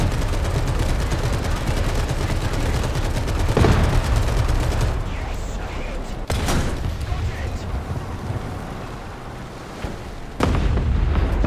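Tank cannon fire and explosions in the War Thunder video game, with loud booming shots over constant rumbling battle noise and a few sharp blasts standing out.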